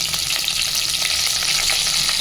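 Curry leaves fry in hot oil in a steel pot, a dense steady crackling sizzle running loud and unbroken throughout, close by with no voices.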